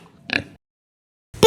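A pig oinks: a brief, close grunt, then silence, and a second oink starts just as the clip ends.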